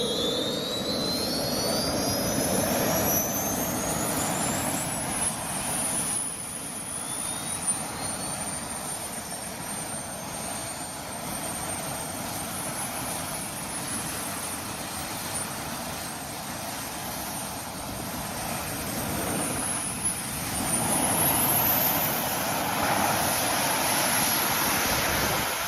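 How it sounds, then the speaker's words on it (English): A jetpack's jet engine roars steadily and loudly for the whole stretch with a thin high whine, in a played video clip, and no one talks over it. "I've seen some of the jetpacks, yeah."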